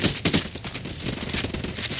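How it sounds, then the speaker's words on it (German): Rapid bursts of automatic gunfire from the video game Ghost Recon Wildlands, enemies shooting at civilians; dense, repeated shots with sharp cracks near the start, fairly close and continuous, no talk. "Alter, die schießen auf Zivilisten!"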